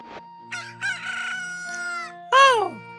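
A cucco rooster in Zelda: Ocarina of Time crows loudly, a rising and falling cock-a-doodle-doo that ends in one sharp closing call, with game chimes and tones ringing around it.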